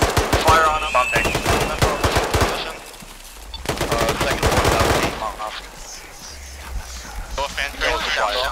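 Automatic gunfire in a military shooter video game, with rapid bursts of shots in two loud stretches and a lull between them, while radio-style voices talk over the firing.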